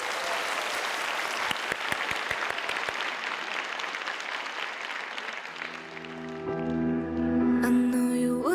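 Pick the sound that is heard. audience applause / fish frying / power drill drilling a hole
audience applause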